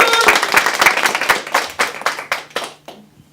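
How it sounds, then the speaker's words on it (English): Audience clapping for a panelist walking onto a talk-show stage, starting as a dense, lively burst and thinning into scattered individual claps that fade out near the end. "we're going to give Ellen a great big round of applause"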